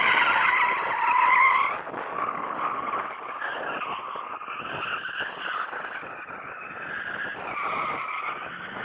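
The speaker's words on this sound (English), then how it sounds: "I'm going to warm up my tyres because I can turn my stability off and do some skiddies" A BMW M8 with stability control off and set to rear-wheel drive squeals its tyres in a long, continuous skid to warm them up, loud at first and then steady over a wavering engine note.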